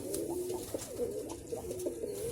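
Pigeons coo continuously in low, throaty rolling calls, several overlapping close by, with no talking.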